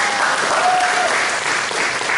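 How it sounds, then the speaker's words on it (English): Audience applause for a speaker at a talk, a steady dense wash of clapping that holds at an even loudness for a couple of seconds with no voices over it. "Give her a round of applause."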